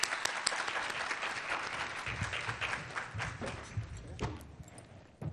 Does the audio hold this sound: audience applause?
yes